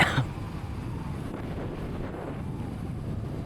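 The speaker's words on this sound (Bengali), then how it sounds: "আর প্রচুর পরিমাণে বাতাস শুরু হয়েছে" Strong wind roars over the microphone of a moving motorbike on a village road, a dense continuous rumble with a louder gust at the very start.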